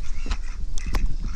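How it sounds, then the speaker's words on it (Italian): Several black-billed ducks quacking outdoors in a park with trees, giving short bursts of calls over steady background noise. "Allora esistono le papere col becco nero."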